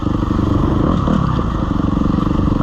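A dirt bike ridden over rocky trails, its engine drone running loud and steady throughout with rattling and scraping clatter from the terrain, close and continuous, no talk.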